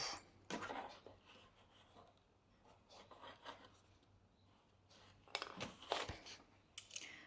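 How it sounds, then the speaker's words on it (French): Scissors cutting and enlarging a hole in a cardboard Easter craft box, with scattered rasping snips and scraping rubs coming in short bursts, close and fairly quiet, with no voice. "Moi, je me sers de mes ciseaux et j'agrandis le trou."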